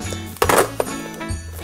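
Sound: Contempora telephone handset hung up angrily

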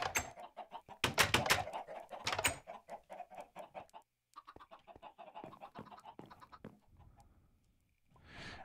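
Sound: chickens clucking in video game Minecraft

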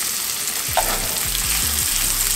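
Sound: Chilean seabass sizzling in hot oil in pan

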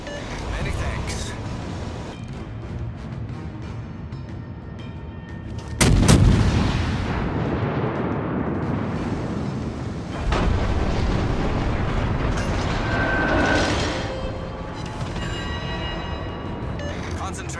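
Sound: warship guns firing in video game World of Warships: Legends

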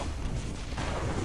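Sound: rocket explosions in a video game

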